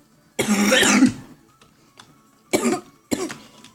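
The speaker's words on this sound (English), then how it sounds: "Sorry about my cough" A single person coughs up close: one long, harsh coughing fit, then two shorter coughs after a pause, against a quiet background.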